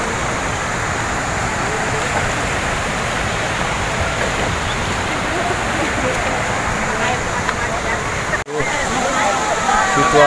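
Ponot waterfall, billed as Indonesia's tallest and crowded with visitors, heard from directly beneath the falls: a loud, constant broadband roar of falling water that fills the whole clip, with one brief dip near the end.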